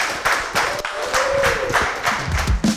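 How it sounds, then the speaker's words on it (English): A small audience at a Nagios World Conference session claps for the speaker, Cory Norell, in a brief, sparse burst of near, loud handclaps with a faint tone underneath. "Let's give Cory a big round of applause"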